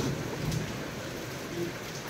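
Heavy rain with thunder, a dense, steady roaring hiss with low rumbling beneath, continuous throughout with no voices.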